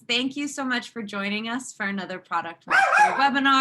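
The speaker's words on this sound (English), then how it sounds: "Oh, I'm so sorry about my dog." A pet dog barks and yips in short bursts close by, mixed in with a woman's continuous speech as she greets listeners at the start of an online product webinar.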